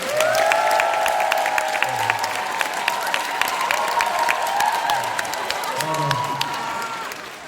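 Seminar audience applauds in a steady, fairly loud burst lasting several seconds, while a sustained tone and occasional voices carry underneath the clapping.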